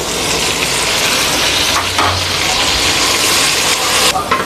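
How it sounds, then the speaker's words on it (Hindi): Tomatoes tipped into a pan of reddened fried onions over low heat for achari pulao, giving a loud, continuous hiss and sizzle with a brief stirring bump midway. "आँच हल्की करके हम इसमें डालेंगे टमाटर।"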